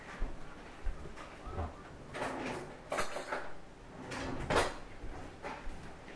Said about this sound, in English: Now I'm going to grab a spoon real quick.